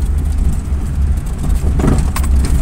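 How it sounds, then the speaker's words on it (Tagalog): Jeep rumbling past close by on a rough red-dirt country road, a steady loud low engine drone with rattling and clatter from the bumpy ride, swelling briefly near the end. "Ay, may jeep din ditong nagbibiyahe."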